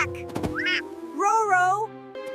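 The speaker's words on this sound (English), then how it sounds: "Quack! Quack! Quack!" A cartoon duck gives loud, bright quacks with wavering, nasal tones, close up after a short thump and other cartoon noises in a snowy children's animation.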